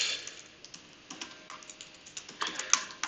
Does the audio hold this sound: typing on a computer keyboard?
yes